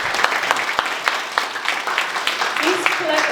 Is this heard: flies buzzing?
no